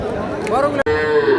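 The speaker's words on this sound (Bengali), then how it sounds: "চলেন দেখি গরুগুলা" A calf lows nearby at a cattle market in Tangail, a drawn-out rising moo, with a murmur of people and farmyard noise in the background.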